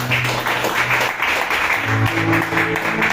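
A church congregation applauds during an evening worship service, the clapping moderately loud and steady over sustained musical tones.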